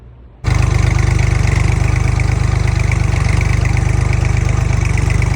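A Jinma 244 tractor's three-cylinder KM385 diesel (24 hp, 1532 cc, made by Laidong, China) idles loud and close, with a steady rapid throb right after a brief quieter moment at the start.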